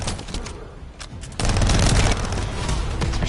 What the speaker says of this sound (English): If this continues, the repeater will explode.